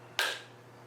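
A single sharp hand clap at a sports-betting desk, loud and close, ringing briefly before the room falls back to quiet hum.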